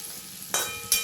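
Sliced okra sautéing in hot oil in a home kitchen, giving a soft steady sizzle. Two brief louder bursts of crackle come as the pieces are stirred.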